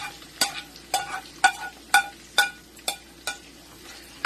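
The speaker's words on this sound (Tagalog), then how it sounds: "magigisa na tayo ng bawang sibuyas" Garlic and onion sautéing in hot oil in a pan for palabok, with a steady sizzle broken by about eight regular scraping strokes of a spatula, close and clear, with no talking.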